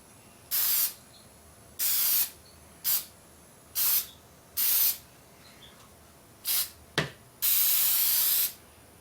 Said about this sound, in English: So I'm just going to lightly spray the chassis with that.